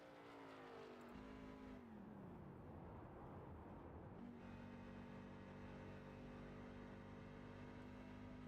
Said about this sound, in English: we can hear him shutting that truck off as he goes down into the corners